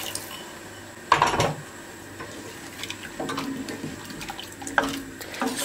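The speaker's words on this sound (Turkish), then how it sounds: "Artık suyunu ekleyebilirim. 4 su bardağı" Water is poured from a glass into a cooking pot for potato soup, producing a few brief splashes and gurgles over quiet kitchen background noise.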